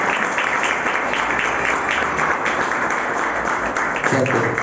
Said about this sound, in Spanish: le dan un fuerte aplauso a la presencia de Dios?